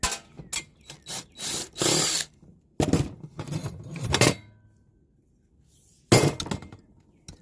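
A power drill backs 7/16 bolts out of an extruded aluminum arm in short loud bursts of whirring and rattling, with pauses between and a final burst after a quiet gap.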